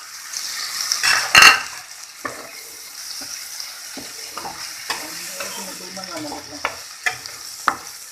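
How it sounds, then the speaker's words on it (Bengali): Prawns tipped into sizzling masala in a pan and stirred: a loud splash and hiss as they go in, then an ongoing frying sizzle with scattered scrapes and clinks of the spoon against the pan. "কষানো হয়ে গেছে এবার আমি চিংড়ি মাছ ঢেলে দেবো"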